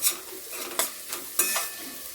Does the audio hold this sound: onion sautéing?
yes